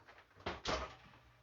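An oven door pushed shut during live cooking at home after it first refused to close, giving two quick bumps about a fifth of a second apart, the second the fuller and louder one.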